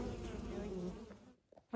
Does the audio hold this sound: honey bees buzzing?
yes